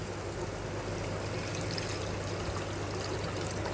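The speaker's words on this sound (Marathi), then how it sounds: "गरम पाणी या मिक्सरच्या भांड्यातच टाकूया." Hot water streams in a continuous steady pour into a mixer jar holding cooked masala, close and even in level for a few seconds, with no talk.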